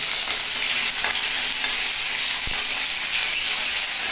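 Curry leaves and dried red chilies sizzle steadily in hot oil, a loud, even frying hiss that lasts the whole time with no talking.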